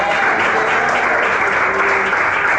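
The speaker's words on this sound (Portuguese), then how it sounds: "Quem bate palmas?" A church congregation claps loudly and continuously for a few seconds, a dense steady wash of applause with no pauses.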